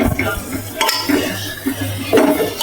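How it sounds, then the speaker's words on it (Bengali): Food is stirred in a cooking pot in a home kitchen, a spoon scraping and clinking against the pot with a soft sizzle underneath, steady and close. "মা নাড়ছিল, আমি একবার নেড়ে দেখি"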